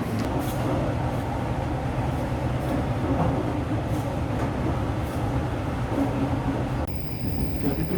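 The Progo passenger train in Indonesia rumbles steadily along the rails near Kebumen station, a continuous low clatter and roar that stays loud throughout, with a faint high tone near the end.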